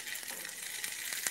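Potato cakes fry in a pan with a steady, bright hiss of sizzling oil. Faint scrapes and ticks of a spatula sound against the pan.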